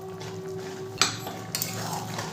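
Aloo posto is stirred in a pan on a gas stove, with a metal spatula clanking once against the pan and then scraping, over a faint background hum.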